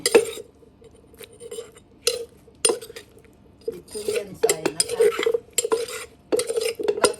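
A pestle pounds durian papaya salad in a mortar with repeated thuds and knocks in uneven bursts. The pounding is close and fairly loud, and no voices are heard.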